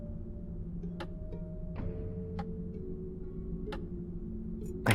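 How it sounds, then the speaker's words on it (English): Faint mechanical clicks in the video game The Black Mirror 3, a handful of sharp ticks spaced unevenly over a low, steady ambient hum. "I heard a clicking sound."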